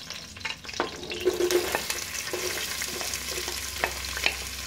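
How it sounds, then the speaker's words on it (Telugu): Frying and stirring in a pan while making Andhra-style mutton paya curry, a steady soft sizzle with scattered spoon scrapes and taps against the metal, fairly quiet and close. "బాగా ఫ్రై చేసుకొని"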